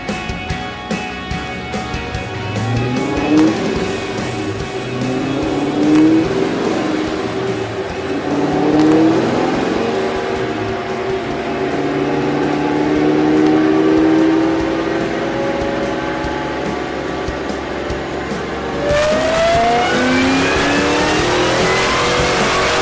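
A Ford Mustang engine on a dyno at an all-Ford Mustang show revs up repeatedly in long rising sweeps, loud and close, climbing through the gears with a hard pull and dropping off near the end.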